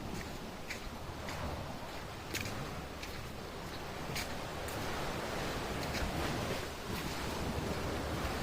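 Sea waves wash steadily beside a forest path in the Maldives, a continuous broad surf roar with gusts of wind buffeting the microphone and occasional sharp crackles, moderately quiet and without voices.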